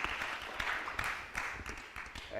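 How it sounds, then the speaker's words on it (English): Audience at a performing arts conference applauding a presenter and her team, a moderate continuous spatter of many hands clapping at mid distance, fairly even in level for the whole stretch. "Clap for her and the team."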